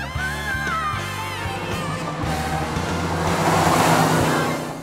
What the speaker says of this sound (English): I feel a turbo boost coming on